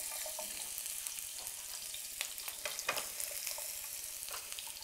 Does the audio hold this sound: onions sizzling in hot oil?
yes